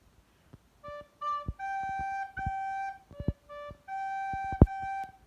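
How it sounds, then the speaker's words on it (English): A recorder plays the opening phrase of the nursery round London's Burning, a string of clear, steady notes in short and held groupings, with brief gaps and a few soft taps between them. "First bit of London's Burning sounds like this."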